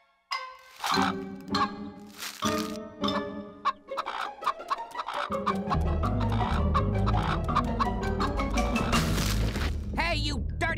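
A cartoon chicken clucks in quick, agitated bursts close by, mixed with dramatic music and sound effects, while a voice speaks over the commotion.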